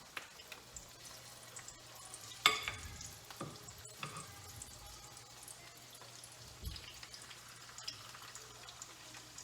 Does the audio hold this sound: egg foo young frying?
yes